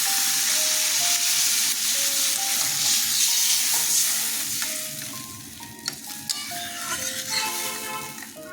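Fish heads sizzle in a pan of hot oil after water is poured in for mung dal, a loud steady frying hiss that eases off while utensils clink and scrape as the contents are stirred.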